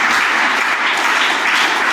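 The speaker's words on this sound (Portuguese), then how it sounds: "Aplauda ao Senhor" A church congregation claps steadily at an evangelical service, a dense, continuous wash of many hands close by with no break.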